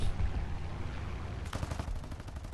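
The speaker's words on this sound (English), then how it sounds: "my favorite thing about this stupid cannon is these cannons." Aircraft cannons in the video game War Thunder air battles, a rapid burst of firing in the second half over a steady rumble of engine noise.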